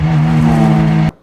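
A car ripping past at speed makes a loud, full engine roar with strong harmonic tones. It holds steady for about a second and then cuts off abruptly.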